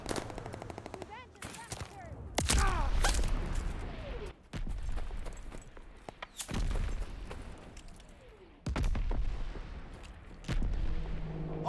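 A mortar barrage lands in Call of Duty: Vanguard with a string of heavy, booming explosions about two seconds apart, mixed with rattling gunfire and crackling debris.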